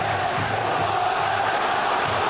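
Home supporters roar at a Portsmouth football match against Everton, a steady, distant wall of crowd noise with no clear breaks.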